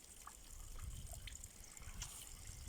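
A healing spring in the Sokyriany area trickles faintly and steadily, a quiet liquid patter over low background rumble, with no voices.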